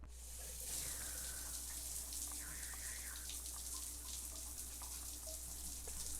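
Water runs steadily from a shower, a continuous hissing spray with light splashing over a low background hum, with no one talking.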